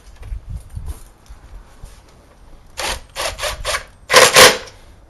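An Allen key turns 5mm Allen head pan bolts on a Corbin pillion seat for a 2018 Indian Scout Bobber. It makes short, close scraping and ratcheting bursts, faint at first and louder in quick clusters toward the end.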